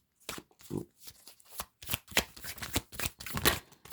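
Paper cards being handled, shuffled and turned over in a tarot-style reading, a run of quick, crisp riffling bursts and flicks up close, with no talking.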